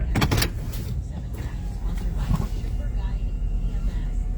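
Cars pass close by on a Chicago city street near 23rd Street and Halsted, with a loud whooshing rush at the start followed by steady traffic rumble and a few more pass-bys. People talk over the traffic.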